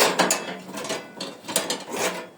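Two bags of scrap metal pulled from a dumpster are tipped onto a scale, and the contents clatter and rattle in several loud, close bursts of clanking metal with brief pauses between them.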